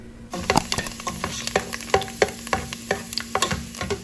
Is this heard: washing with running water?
no